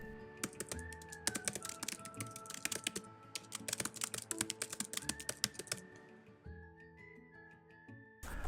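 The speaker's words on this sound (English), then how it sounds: "welcome to episode 1 of me typing out The Great Gatsby" Steady typing on a computer keyboard while copying a novel word for word, a dense run of crisp close key clicks and clacks at an uneven rhythm with brief pauses, no talking.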